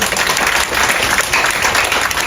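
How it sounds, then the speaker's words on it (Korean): A dense, loud wash of clapping from a crowd aboard a cruise ship greets arriving guests, continuous and even throughout the short stretch. "요시오카 타치야 대표님과 최열 환경재단 이사장님을 뜨거운 박수로 모셔보겠습니다."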